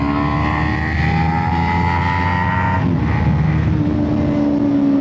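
Motorcycle engine running steadily with sustained harmonic drone that drops in pitch near three seconds as if shifting gears, loud and close throughout.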